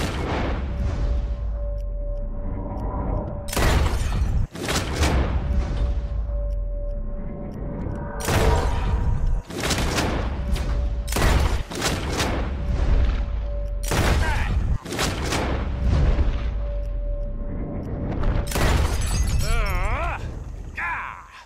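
Repeated gunshots crack out in Red Dead Redemption 2 as a bottle-shooting contest plays out, each loud report bursting with glass shattering in irregular clusters over a steady background hum, with brief talking near the end.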